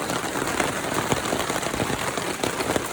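Steady rain patters on a campsite in the wet, a dense, even hiss of drops with faint scattered taps, close and continuous with no voices.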